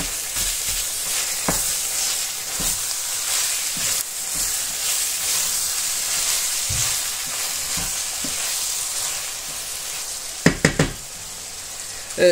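Leeks frying in a pan while being stirred, a continuous close sizzle with occasional utensil scrapes and a cluster of knocks near the end.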